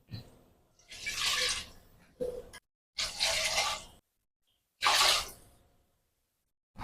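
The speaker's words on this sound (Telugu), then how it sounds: "ఇప్పుడు 3 గ్లాసుల వరకు వాటర్ వేసుకోవాలి." Water is poured into a pot for cooking rice in several separate bursts, splashing and gurgling at close range with pauses of silence between pours.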